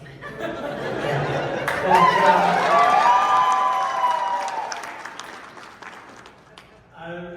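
Audience at a Hellraiser convention panel in Las Vegas breaks into applause mixed with cheers and some laughter, swelling to a loud peak and then tapering off, with a voice starting up at the end.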